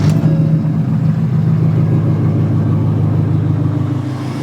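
A pickup truck's engine runs on a cold Texas morning: a deep, steady idle rumble, close and loud, with a low throb that holds evenly and eases slightly at the end.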